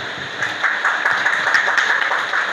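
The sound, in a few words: audience applause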